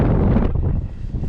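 Strong wind buffets the microphone on a steep mountain hike in the Brecon Beacons, a loud, rough rush that swells briefly and then eases.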